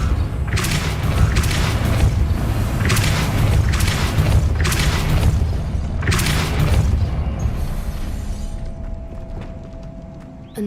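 A Depulso spell shoving an obstacle aside in Hogwarts Legacy gives a series of heavy booming thumps with crashing impacts, loud and close, fading toward the end.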